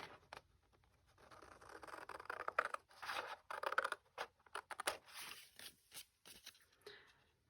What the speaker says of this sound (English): just to make it easier to get the scissors in here